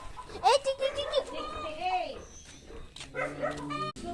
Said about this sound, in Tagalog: Ang cute naman yung bebe aso nila.